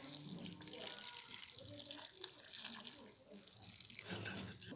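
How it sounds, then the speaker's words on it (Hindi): Broth is poured into a pot for a traditional D.I.Khan painda dish, giving a close, continuous liquid splashing and trickling while a person talks over it. "हमारा जो शोरबा था हम इसके अंदर डाल"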